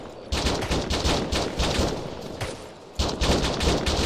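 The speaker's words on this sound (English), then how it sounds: "there's been shooting into the base for the entire time" Sustained rapid gunfire in a co-op military shooter video game, dense overlapping bursts near and loud, with a short lull before the shooting resumes.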